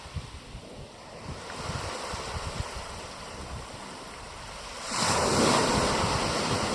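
Waves break on a beach in southern Ireland with a continuous surf roar and wind buffeting the microphone. A louder crashing wave swells in near the end.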